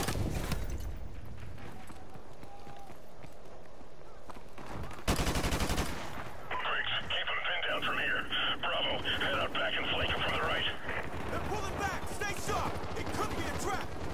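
In Call of Duty Modern Warfare Remastered, sustained automatic gunfire and bursts of shots rattle on under a talking voice, with a loud sharp blast near the middle and dense firing that continues afterward.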